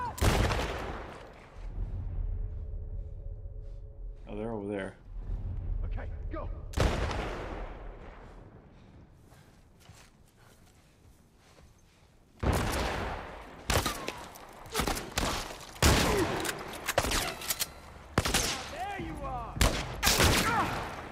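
Gunfire in The Last of Us: a close burst at the start, then after a quieter lull a long stretch of rapid, repeated shots and impacts in quick volleys near the end, loud and dense.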